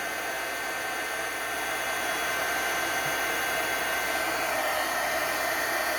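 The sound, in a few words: heat tool blowing hot air to melt embossing powder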